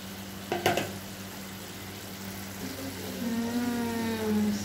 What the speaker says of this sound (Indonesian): Lepas tu, kita tuang air. Lepas tu, kita biar dia mendidih.